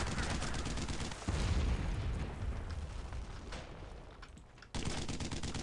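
Heavy gunfire and explosions from the World War II shooter game Brothers in Arms: Road to Hill 30 during the push into Carentan, dense machine-gun bursts and booms rolling continuously, loud, with a brief lull before resuming.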